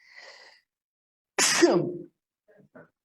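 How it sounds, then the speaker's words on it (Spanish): A single loud, close sneeze bursts out over about half a second, with faint breathy sounds before and after in an otherwise quiet room during a spoken talk. "A cada rato estornudo a veces, el polvito me da."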